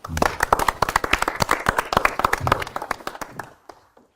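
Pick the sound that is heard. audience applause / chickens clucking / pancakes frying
audience applause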